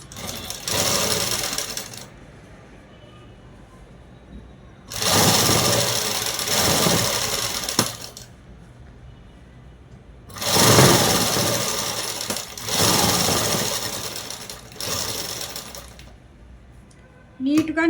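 Electric sewing machine stitching dress sleeves onto shoulders in bursts of steady rapid whirring, separated by quiet pauses, close by with soft handling noises between runs.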